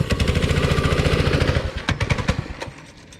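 A small engine rattles and revs hard with a rapid pulsing chatter as the throttle is opened, then stutters and falters into irregular bursts, loud and close.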